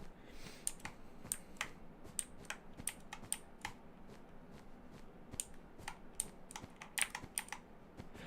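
Fast, irregular clacking of a loud computer keyboard, close and crisp, with keystrokes tumbling in uneven bursts over a quiet room background and no talking.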